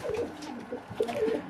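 An ornamental pigeon, once quiet and now lively, gives soft, low cooing calls in a few short rounded phrases, close by and fairly faint with no talk.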